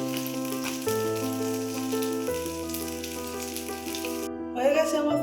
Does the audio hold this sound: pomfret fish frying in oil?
yes